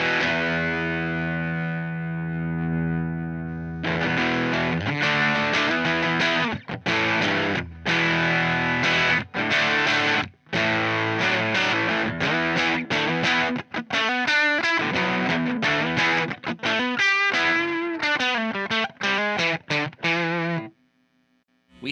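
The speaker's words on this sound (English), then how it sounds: "now I'm going to click on the distortion mode on the left-hand side" An electric guitar played through an Aclam Go Rocky Go pedal in distortion mode, sounding loud and sustained with a held opening chord followed by choppy strummed chords and riffs, then a final ringing note.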